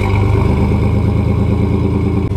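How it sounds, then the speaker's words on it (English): A Chevrolet S10 pickup truck engine idles close and loud with a steady, throbbing low rumble and regular pulsing beat, ending with a brief click. "believe it or not, is actually how this truck sounds"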